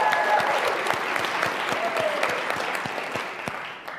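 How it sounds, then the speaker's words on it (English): An audience at a student business pitch competition applauds in a dense, steady wash of clapping from many hands, with scattered louder claps standing out and a faint voice briefly underneath. "Lindsay always gets the biggest applause"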